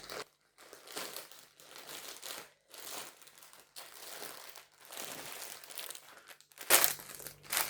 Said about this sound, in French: Alors je vais juste ouvrir l'emballage.